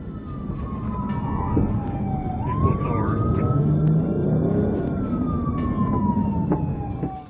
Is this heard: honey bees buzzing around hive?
no